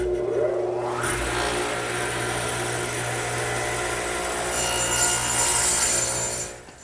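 Radial arm saw swung 12.5 degrees crosscutting a wooden garden bench armrest held against the fence; the motor whines up, then a loud, steady cutting roar holds for several seconds before trailing off at the end.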